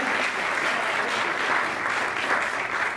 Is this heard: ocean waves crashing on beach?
no